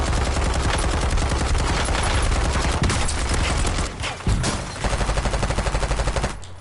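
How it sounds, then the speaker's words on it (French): Rapid gunfire fills a Warzone match with a sniper firing from across the map, dense loud bursts of shots rolling almost continuously, one brief lull near the end before more volleys. "Le mec qui est arrivé en face, il snipe."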